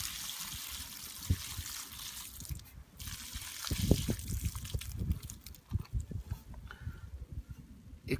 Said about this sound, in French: Refermer, retourner, vider votre coca.